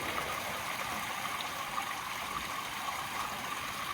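Water flows steadily through a gold sluice on the Yuba, a soft, even rushing wash that stays constant and fairly quiet throughout, with no voices.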